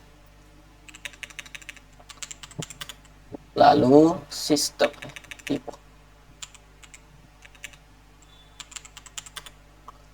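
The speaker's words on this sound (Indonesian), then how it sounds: "Pertama kita akan mengetik kode" Keystrokes on a computer keyboard while code is typed, light irregular clicks scattered through the clip with a burst of speech in the middle.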